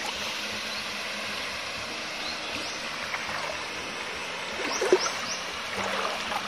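River water flows steadily over a village weir, a broad continuous rushing wash heard close by, with a brief splashy swell near the end and no voices.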